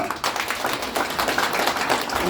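An audience claps at a presidential candidate forum in a memorial hall: a dense, steady patter of many hands lasting about two seconds, with no talking over it.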